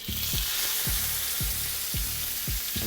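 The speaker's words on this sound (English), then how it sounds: "we're gonna grab our steak and we're gonna put it down the pan" A ribeye steak sears in a hot pan with a loud, continuous hiss and crackle, close up, while a low thumping recurs roughly every half second underneath; no one speaks.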